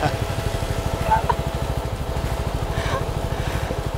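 A CFMOTO 300NK motorcycle engine runs steadily at low revs during a beginner riding lesson, a continuous pulsing drone throughout with voices talking over it.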